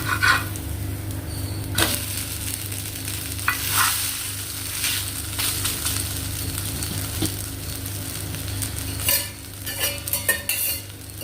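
A pearl millet adai fries on a pan after being flipped, a soft continuous sizzle with occasional sharp scrapes and taps of a utensil against the pan, close by and without speech.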